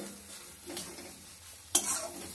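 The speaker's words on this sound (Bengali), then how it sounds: "আঁচটা বাড়ালে হবে না, কম আছে নেড়ে নেড়ে শুকিয়ে নেব।" Bottle gourd leaves being stirred and dry-roasted in a pan over low heat, giving a soft steady scraping rustle with a faint sizzle and one sharper clink of the utensil near the end.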